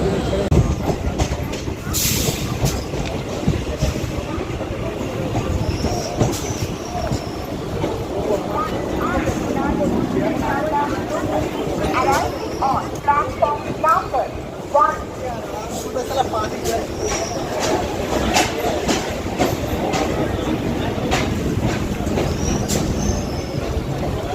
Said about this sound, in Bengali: ট্রেন এখন আমাদের ছাড়লো বালিগঞ্জ জংশন থেকে